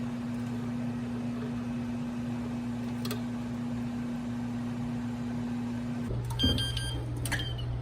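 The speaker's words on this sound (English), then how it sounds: "now the press timer is up" A sublimation heat press hums steadily before its timer goes off near the end with a brief cluster of electronic beeps over the machine drone.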